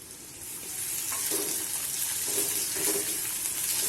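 Finely chopped potatoes with onion sizzle and sauté in hot oil in a pan, a steady close frying hiss with a few soft stirring scrapes and no talk.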